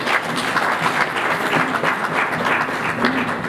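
Congregation at a memorial service in a London chapel applauding, a sustained even wash of clapping from a crowd with faint voices mixed in.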